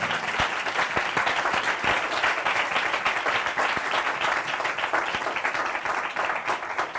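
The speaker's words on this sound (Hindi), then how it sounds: "यीशु मसीह के लिए जोरदार तालियां बजाएं" A church congregation at a Christmas celebration service applauds vigorously, a thick, steady roar of many clapping hands with a few louder individual claps standing out, continuing loud for several seconds.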